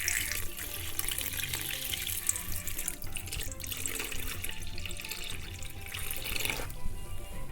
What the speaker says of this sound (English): Just pour enough water over the top of your dough to completely cover it